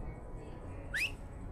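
A character in the Desperados III video game gives one short rising whistle, heard alone over a low background hum.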